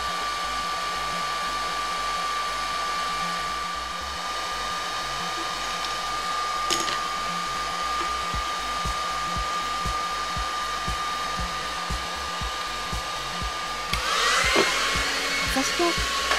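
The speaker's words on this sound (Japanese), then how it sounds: "ヒートガンの高温にレンズのコーティングがどれくらい耐えられるのか見当もつかないですが、少しずつ回しながら慎重にリング部分を加熱していきます。" A heat gun blows steadily and loudly on the ring of a small astrophotography reducer lens as it is slowly turned, a continuous airy roar with a thin whine running throughout and a brief rise in hiss near the end.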